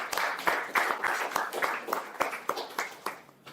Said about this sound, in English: So big round of applause for them as well.